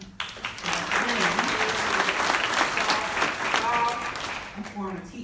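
An audience claps steadily through a local district attorney candidate forum, dense crowd applause that holds loud for several seconds before tapering off, with voices murmuring underneath.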